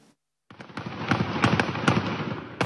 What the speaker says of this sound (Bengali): দফায় দফায় গুলির শব্দ